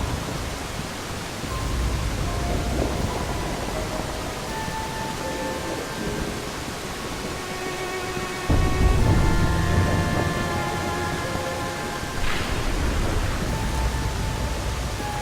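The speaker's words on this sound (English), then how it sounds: "this is the first time I've ever felt the rain on my skin" Steady, dense rain pours throughout a cutscene from the video game Dirge of Cerberus, with a low rumble swelling midway, faint musical tones drifting underneath, and no speech.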